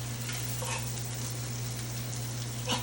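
Onions and garlic fry steadily in a cast iron skillet in leftover NY strip steak juices, a soft continuous sizzle with a few faint stirring clicks and no talking.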